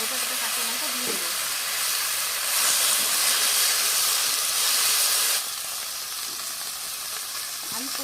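Whole green chilies go into a hot pan with greens, giving a steady loud sizzle and frying hiss that swells briefly in the middle, with a couple of faint clinks and no speech.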